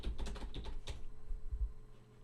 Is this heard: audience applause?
no